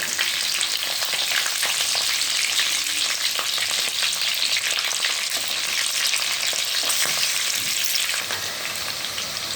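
Green chillies crackle and sizzle in hot oil for a mutton curry, a dense continuous frying hiss with scattered pops and occasional stirring, close and steady throughout.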